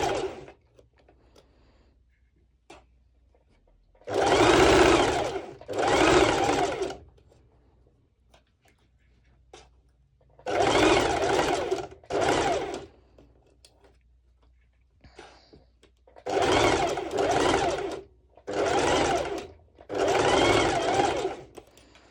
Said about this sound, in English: it's a straight stitch with the highest stitch length, and I just go and I'm just stitching over